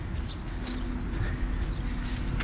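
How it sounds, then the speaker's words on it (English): A continuous high-pitched buzz of cicadas runs over a low, steady outdoor background, with a few faint bird calls. "Can hear the cicadas humming away."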